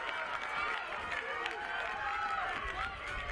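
A crowd at a women's college lacrosse game, UConn against James Madison, sends up a sustained murmur of disagreement over a close call, heard beneath a commentator's voice.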